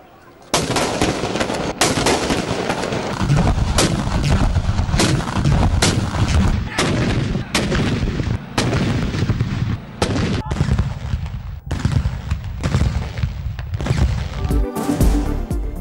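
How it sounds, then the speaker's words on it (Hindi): Cannon salute fired at dawn to mark the Prophet's birthday celebrations in Pakistan, heard as a long series of loud, booming blasts in irregular succession, some overlapping, with crowd or ambient noise between them. "दिन के आगाज़ पर तोपों की सलामी।"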